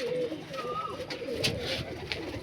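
Malwai pigeons in a pigeon house coo softly nearby in low, rolling murmurs, with a faint flutter or rustle among them.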